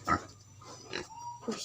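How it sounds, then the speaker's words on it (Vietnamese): Grunts and short snorts from a sow of a wild boar hybrid breed on a farm, a few close, brief bursts with a voice speaking between them. "con heo mẹ đây."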